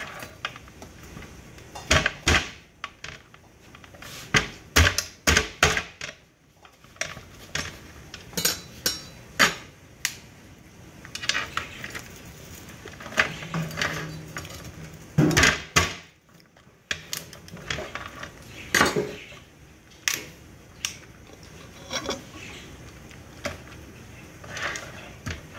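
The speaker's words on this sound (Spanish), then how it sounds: "Voy a proceder a cortar por mitad estas jaibas" A knife cuts crabs in half for a seafood soup, giving repeated sharp knocks and cracks with clinks of shell and utensils at an irregular pace, close and fairly loud.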